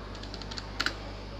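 A handful of soft, quick keystrokes on a computer keyboard, with a small cluster of slightly sharper clicks near the end, heard faintly over a steady low hum.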